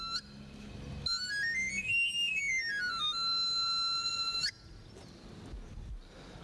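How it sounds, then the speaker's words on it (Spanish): A knife grinder's small pan flute plays a rising then falling run of bright whistling notes, loud and alone, with faint background noise around it. "el monótono sonido que hacía con su chiflo, una especie de flauta pequeña, que sonaba así"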